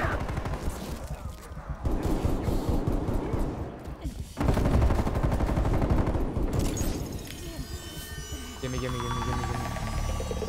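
Gunfire in the zombie shooter Firebase Z, dense bursts of shots that rise and fall over about ten seconds with a steady electronic hum and other game sounds beneath, and a voice talking partway through.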